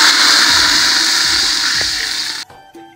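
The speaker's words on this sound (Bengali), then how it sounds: "এখন দিয়ে দিব জল।" Water pours steadily into a cooking pot holding fried vegetables, a loud continuous rushing gush that fades slightly and stops abruptly, followed by a few faint clinks.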